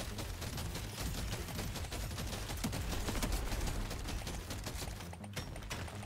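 Dense, continuous shotgun fire from Deep Rock Galactic Survivor, rapid overlapping blasts and clatter throughout, with no speech.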